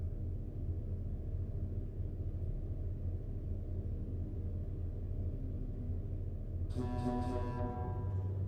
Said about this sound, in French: mettre un petit coup de klaxon.